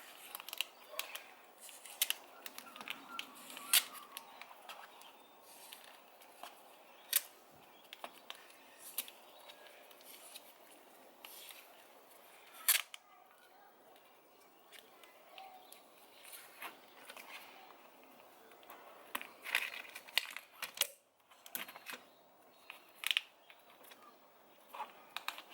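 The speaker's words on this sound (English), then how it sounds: "I'm just going to tape up the rest of the wiring" Electrical tape is wrapped around alternator wiring on an HZJ80 four-wheel drive, giving faint intermittent tearing and stretching crackles with sharp ticks in a quiet setting, and no talking.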